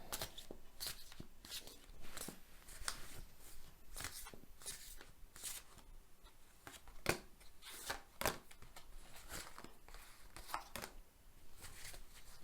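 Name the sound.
shuffling tarot cards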